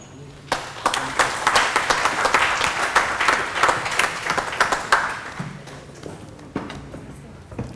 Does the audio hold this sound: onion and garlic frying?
no